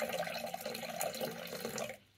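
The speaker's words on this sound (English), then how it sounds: "just needs to top up the water dish" Water topping up the dish in an enclosure of an Indian ornamental tarantula (Poecilotheria regalis), a steady close trickling and splashing for about two seconds that stops abruptly at the end.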